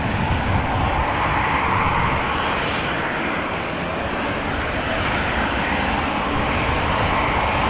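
KLM Boeing 737-800 jet at Amsterdam Schiphol Airport, a loud, steady roar of jet engines that holds without a break throughout, close by and with no voices over it.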